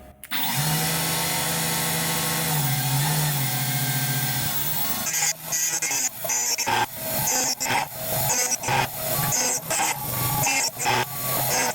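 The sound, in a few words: machine cutting aluminum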